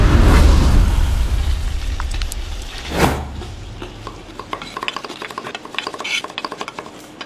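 Beef cooking in oil in a pan, a loud sizzle fading over several seconds, with a few metal utensil clinks and stirring scrapes toward the end.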